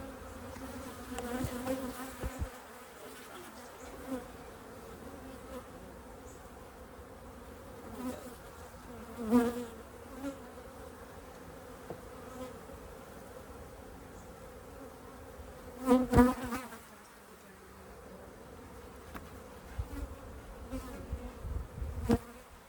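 Honey bees in a top bar hive buzz faintly and continuously, with a few louder swells as bees pass near, and no voices.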